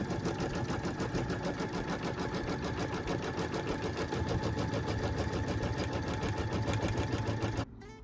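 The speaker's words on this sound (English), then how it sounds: "What we're stitching right now is the fabric placement line" A quilting sewing machine runs steadily, stitching the fabric placement line on a quilt with a fast, even mechanical chatter that stays loud and close, then stops abruptly near the end.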